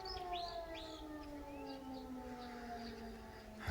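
A distant air raid siren wails steadily, its tone slowly falling, with a nightingale's faint birdsong chirping over it.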